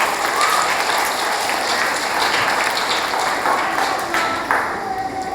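A church congregation claps hard in praise to God during a Telugu sermon, a thick, continuous burst of applause with scattered sharper claps standing out, sustained for several seconds.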